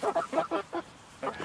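Barred Rock chickens in a chicken tractor cluck close by in a quick run of short, throaty calls, then a brief pause before a few more.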